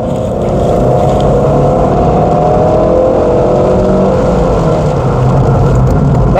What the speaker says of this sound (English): But I'd quite like to see what it goes like if you really gun it.